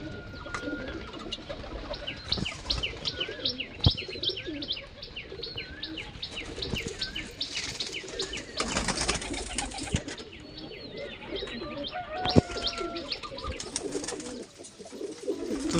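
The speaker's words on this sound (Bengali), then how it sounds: "তো এই হচ্ছে আমার টোটাল কালদমা পায়রা" Large kaldam pigeons coo in a busy loft, a layered low murmur with bright chirps, occasional wing flaps and sharp knocks close by, and nobody speaking.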